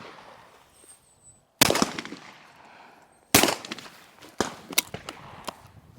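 Two loud, close shotgun blasts about two seconds apart on a sporting clays course, each followed by a ringing decay, with a few quieter knocks and handling sounds afterward.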